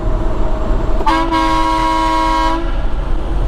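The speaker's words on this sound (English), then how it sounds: "Y'all want to hear my little sissy factory horn?" A single steady factory air horn blast from a truck, loud and close, sounding for about a second and a half over constant engine rumble.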